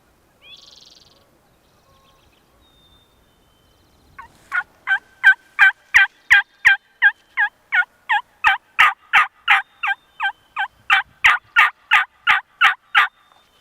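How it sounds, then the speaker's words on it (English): Wild turkeys gobbling in Idaho woods: a long run of rapid, rhythmic gobble bursts at steady pace, fairly close and loud, after a brief faint call and a quiet stretch. "Gobbling going on all over below us."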